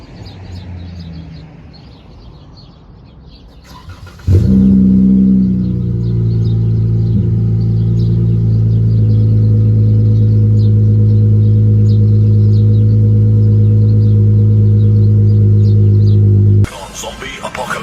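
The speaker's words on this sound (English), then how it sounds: "I'll give you guys a cold start for this Chrysler right now." A Chrysler 300 cold start: after quiet outdoor birdsong the engine cranks and fires with a loud burst, then settles into a steady deep rumbling idle for about twelve seconds before cutting off.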